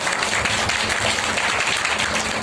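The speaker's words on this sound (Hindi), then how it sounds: "एक बार प्रभु के लिए जोरदार ताली बजाएं।" A church congregation claps loudly for the Lord during a Hindi-language Christian service, a dense, continuous wash of clapping from many people, close and steady throughout.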